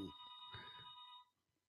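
A telephone rings in another room, a faint electronic ringtone with steady tonal trills that stops abruptly, muffled by distance.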